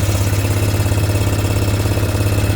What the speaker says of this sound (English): Ford 9700 series tractor.